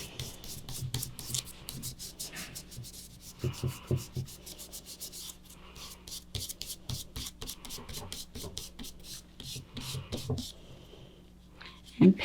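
Charcoal rubbed by hand across paper in an abstract drawing, a steady run of dry, scratchy rubbing strokes close up throughout, with soft murmuring talk underneath.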